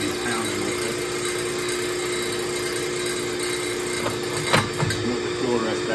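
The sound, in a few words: sanding a wooden mallet on a wood lathe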